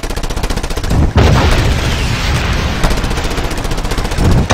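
Rapid automatic gunfire from shooting in the Just Cause 2 video game, a loud continuous stream of shots with a brief dip near the start and a dense, booming texture throughout.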